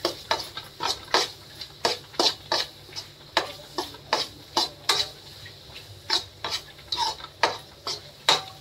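Gatte biryani masala is stirred in a pot with a steady, rhythmic run of close spoon scrapes and knocks against the metal, about two a second, with a faint sizzle underneath and no speech.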